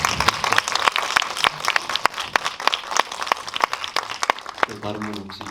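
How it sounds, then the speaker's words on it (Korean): An audience at a documentary screening and discussion in a small cinema claps, with sharp, close individual claps standing out over a scattered, moderate applause. A voice begins speaking near the end. "여러분 죄송한데 좀 박수로 한번 좀 크게 응원을 해주셨으면"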